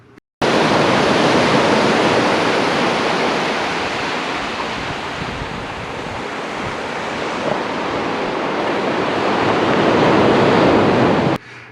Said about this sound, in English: Every once in a while, I'm starting to hear ocean waves.